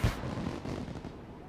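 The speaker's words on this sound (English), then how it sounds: "Let's make some fireworks." Fireworks going off in The Secret World game, a dense, continuous low rumble of bursts and crackle with one sharper thump at the start, steady and fairly loud throughout.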